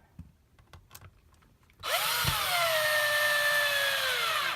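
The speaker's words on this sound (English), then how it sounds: "Did you reverse the drill already?" A power drill spinning in reverse to unscrew parts from a Haier fridge, starting abruptly after faint handling noises and whining steadily and loudly, close by, until it stops.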